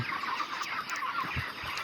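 Several 27-day-old broiler chickens cluck and murmur together nearby on a farm in winter, a busy overlapping chatter of soft calls without pause.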